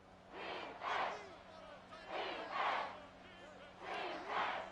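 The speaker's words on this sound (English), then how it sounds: "Crowd chanting defense." A video game stadium crowd in Madden 24 chants rhythmically in repeated two-beat swells of massed voices, moderately loud and a little distant, with no commentary over it.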